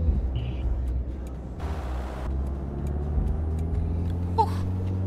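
A truck engine in Euro Truck Simulator 2 drones at full throttle, a steady low rumble with faint clicks and a brief hiss partway through.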